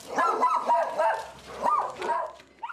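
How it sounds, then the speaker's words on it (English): Dog barking at a rescue kennel during a test of its reaction to other dogs, a run of loud close barks and yelps in quick bursts, with a short pause midway and a final sharper yip. "A kennel assistant tests the dog's reaction to other dogs."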